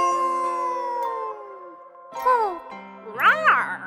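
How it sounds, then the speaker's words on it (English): A sung, cartoonish wolf howl in a children's animal song, long sliding howl tones over a tinkling musical backing, then a couple of shorter bright rising-falling howls. "Wolf in the night says"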